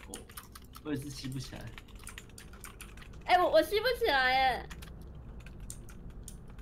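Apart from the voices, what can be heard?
typing on a computer keyboard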